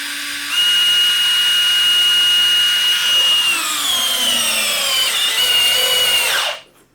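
A DeWalt 12V subcompact DCF601 screwdriver drives a large, rough screw, its motor whining loudly and steadily for about six seconds, pitch sagging under load partway through before cutting off abruptly.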